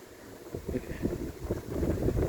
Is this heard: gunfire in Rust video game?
no